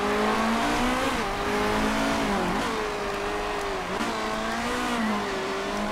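A racing car from the Motorsport Manager game drives with a steady, loud engine drone whose pitch rises and dips with gear changes and throttle, continuous for several seconds with no talking.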